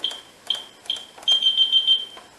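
A Finsecur Type 2 fire alarm panel in fire-alarm mode, giving three short high beeps and then a longer sustained tone, clear and close in a quiet room.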